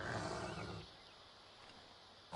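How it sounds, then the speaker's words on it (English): A wolf growls nearby in the Assassin's Creed III video game, a low rough roar that starts loud and then fades into quieter game ambience before a brief swell at the end, no speech. "I can hear a wolf nearby as well."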